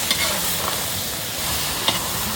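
Mushrooms sizzle as they are stir-fried with oyster sauce in a hot pan, a steady close frying hiss broken by a couple of sharp scrapes and clinks from stirring.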